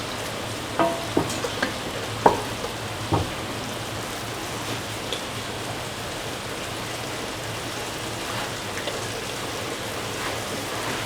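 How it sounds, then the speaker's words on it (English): Egg scrambling and frying into bottle gourd rice in a pan, a steady sizzle with a few light clicks of a utensil early on and no voices. "being fried, scramble the egg into the mixture"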